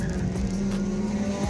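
Several Honda cars race on a street, engines droning and revving close by in a steady loud roar with a hint of tire noise, no talk over it.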